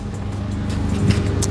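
A Honda Brio car engine at a slalom event hums steadily with low rumble, fairly close and continuous, with a slight swell near the end.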